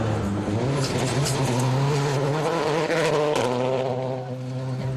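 A Citroen rally car at the 2002 Safari Rally, its front wheel misbehaving, drives past with a loud, continuous engine drone and shifting revs, the tone dropping slightly partway through; no talk.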